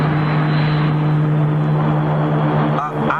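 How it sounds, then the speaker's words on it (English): Orbit jet landing, a steady loud droning engine roar with a strong humming tone, continuous throughout and fading slightly at the end. "the orbit jet is in the process of landing"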